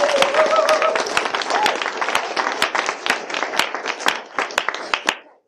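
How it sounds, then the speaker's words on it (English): Wedding guests break into applause after the speeches, a dense burst of many hands clapping that carries on for several seconds before tapering off and stopping, with faint voices and a brief whoop near the start. "So a round of applause, everyone."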